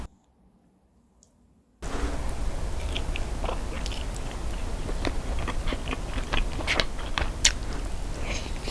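Spicy braised monkfish is chewed close to the mic after a brief silence, with wet, steady mastication and occasional crunchy bites and clicks.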